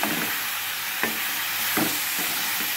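Tomato and cucumber pieces frying in a pan, a continuous bright sizzle close by with a few soft stirring knocks spaced through it.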